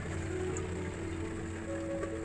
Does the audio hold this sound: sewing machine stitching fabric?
no